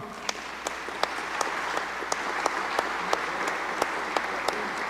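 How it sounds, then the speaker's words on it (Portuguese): An audience applauds at a ceremony honoring a mayor in Brazil, with a steady wash of clapping punctuated by regular, evenly spaced louder claps that give it a rhythmic beat. "Peço aqui uma salva de palmas"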